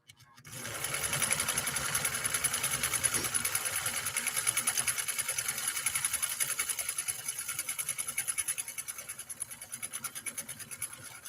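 A Nordic Husqvarna Automatic sewing machine runs cam C stitch pattern 3, a rapid, steady mechanical chatter that starts after a brief pause and continues evenly, close by and without talk.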